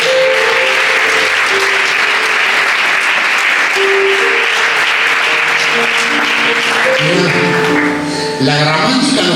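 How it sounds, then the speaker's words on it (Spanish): A church congregation applauds during a sermon, a dense, steady wash of clapping held for about nine seconds, with tonal voices or music running underneath and speech rising at the very end. "Y eso merece un aplauso de la iglesia de Jesús"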